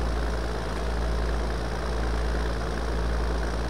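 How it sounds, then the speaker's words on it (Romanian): A farm tractor's engine runs nearby with a continuous, deep, even rumble, holding a steady idle throughout without talk. "Dar oricum este un tractor foarte bun, că merge săracul"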